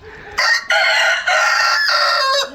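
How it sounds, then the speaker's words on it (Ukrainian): A bantam rooster crows loudly and close by, a single drawn-out call with a few breaks, heard alone. "щодо бентамки півника"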